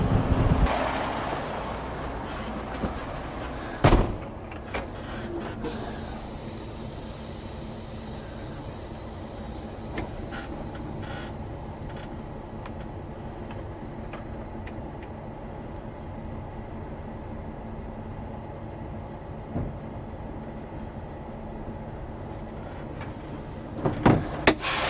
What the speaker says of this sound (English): When I back up a little bit, this pin is gonna pop in.